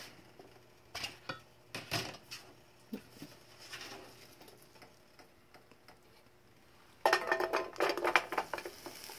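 Onions drop into hot oil in a pan, setting off a sudden close crackling sizzle after several seconds of scattered utensil clinks and taps.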